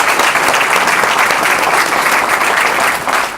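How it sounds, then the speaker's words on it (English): Audience at a community forum on educational gaps breaks into a full round of applause: dense, steady clapping from many hands, loud and sustained throughout before easing slightly at the very end. "Can we give them a round of applause?"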